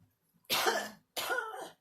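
A patient coughs during a pleural drainage procedure, two separate harsh, close bursts with a short pause between them.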